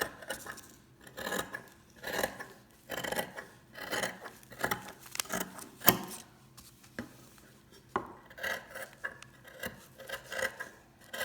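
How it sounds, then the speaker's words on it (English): Scissors snip through four layers of fabric for a face mask in a quiet room, short crisp cuts coming in an irregular rhythm close by. "now I'm going to go ahead and cut this out"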